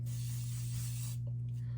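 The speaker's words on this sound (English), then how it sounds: "So I spray it directly on spots" A skincare spray misted onto a face gives a steady airy hiss for about a second, close and fairly quiet over a low background hum, then cuts off.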